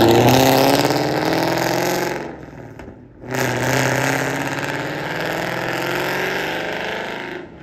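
A supercharged Ford Mustang GT with a VMP Odin blower and headers revs hard, a loud close roar that drops briefly and then surges back, sustained and dominant with no voices.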